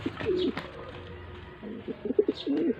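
Domestic pigeons coo in soft, throaty bursts, one call near the start and a run of repeated coos toward the end, fairly close and clear over quiet background noise.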